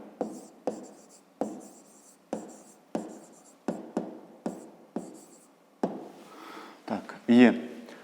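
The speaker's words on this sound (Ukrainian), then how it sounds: "Пишемо відповідь." Hand-writing an answer during a fifth-grade maths exercise: a close series of about a dozen sharp scratchy strokes and taps, roughly every half second, with a brief voice breaking in near the end.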